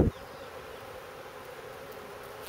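Honeybee drones hum inside an open hive during a spring inspection, a steady, moderately quiet buzzing drone that holds evenly after a brief knock at the start, with no voices.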